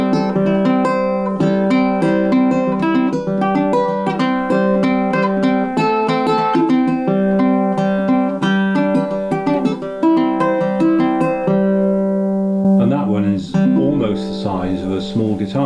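A baritone ukulele strung as a tenor with a low G, playing close and loud with ringing sustained notes for most of the stretch, ending in a brief burst of brighter strummed chords.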